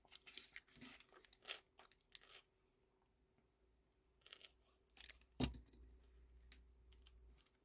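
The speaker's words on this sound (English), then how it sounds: "you can hear me crunching" Crunchy bites of raw cucumber and avocado being chewed close to the mic, a few sharp crisp crunches scattered among quieter clicks and rustles.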